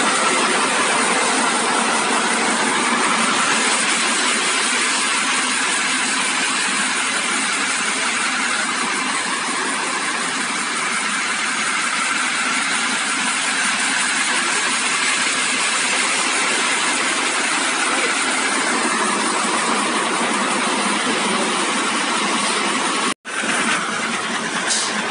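Kamaz 6520 trucks driving past, a loud, continuous engine roar that holds steady throughout with no talk, briefly cutting out near the end.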